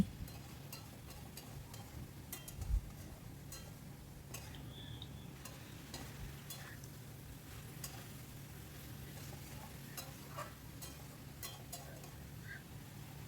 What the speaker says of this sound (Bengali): নুন আর চিনিটাকে খুব ভালো করে নেড়ে মিশিয়ে নিচ্ছি